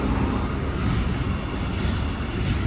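A noisy train rumbles past close by near the Mainz train station in Germany, a loud, steady roar of wheels on rails with no talking over it.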